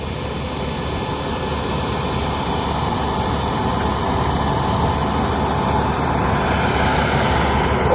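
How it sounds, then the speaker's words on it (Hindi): A 90 hp turbocharged 4x4 tractor on radial tyres sows maize about two inches deep in a field. The engine drone is loud and continuous and slowly builds in intensity, heard alone without talk. "90 हॉर्स पावर का ट्रैक्टर है, टर्बो चार्ज ट्रैक्टर है, 4x4 रेडियल टायरों के साथ भाई।"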